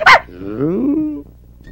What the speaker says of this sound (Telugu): కుక్క ఏంట్రా గోడ ఎక్కింది?